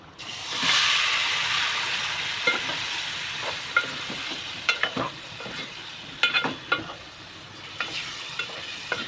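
Mushi (shark) fish pieces go into hot oil with fried turmeric, garam masala and salt in a pan, raising a loud sizzling hiss that settles into a steady frying crackle, with scattered stirring clinks and scrapes.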